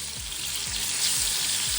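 Chopped onion frying in a hot pan where trout pieces have been browning, with a steady close sizzle and a few soft stirring scrapes.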